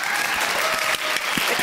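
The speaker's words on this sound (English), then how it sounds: "Everybody, please give a big round of applause with your imaginary hands." A dense round of applause from a crowd, steady and loud with no voices rising above it, filling the whole short stretch.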